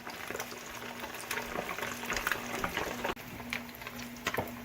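Bluegill fish deep-frying in a deep fryer holding about four inches of oil, giving a steady close bubbling sizzle with crackling pops throughout and no talk.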